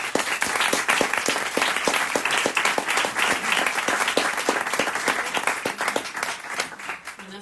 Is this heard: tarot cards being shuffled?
no